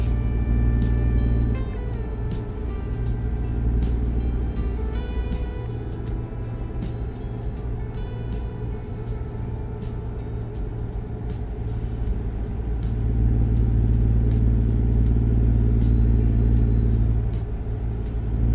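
Kenworth 389 truck driving east, its engine giving a loud, steady low rumble with droning tonal hum inside the cab, swelling slightly as it pulls, alongside occasional light clicks and rattles.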